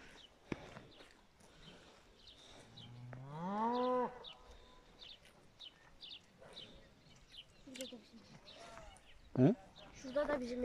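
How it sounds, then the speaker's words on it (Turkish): Cow on a village farm in Alaca, Çorum, giving one long rising moo partway through, close and loud, while birds chirp and people talk around it. "Şurada da bizim inek var."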